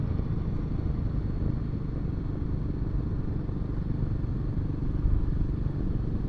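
A Royal Enfield Himalayan 450 motorcycle riding a potholed, broken road: a steady low engine drone and road rumble with light rattling, continuous and close throughout, no talk.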